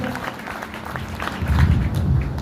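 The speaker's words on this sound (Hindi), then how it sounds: "ताली जोरदार वाली बजाए सर" Audience applause at an RCM business seminar, clapping that builds and grows louder partway through, with a voice speaking over it.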